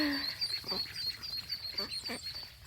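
About two-week-old ducklings call as a group, giving high repeated peeping cheeps from fairly close, along with a few lower honks.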